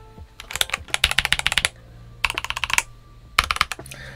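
Fast bursts of typing on a Tecware Phantom mechanical keyboard with Otemu-style hot-swap switches, loud and close, coming in three quick clusters of clacky keystrokes separated by short pauses, with no voice.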